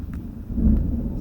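Deep rolling thunder right after a lightning strike, a heavy low rumble that swells midway through and stays loud to the end.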